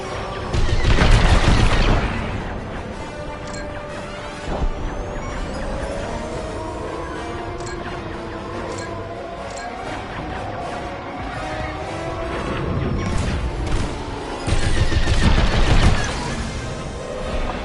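Starfighter blaster fire and explosions in the Star Wars: Squadrons video game, with dense, continuous volleys and booming blasts that swell loudest at the start and end over a steady roar.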